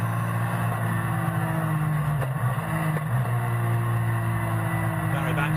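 GT race cars on a circuit, among them an Aston Martin, with engines droning steadily and loudly throughout, a deep sustained roar and a brief dip midway as gears change; commentary talk runs over the top.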